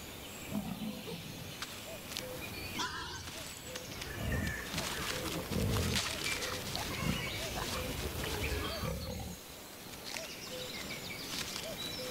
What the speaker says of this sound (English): the wolf is woken by the sound of mushroom-digging boar.